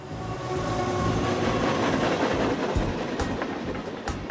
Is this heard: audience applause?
no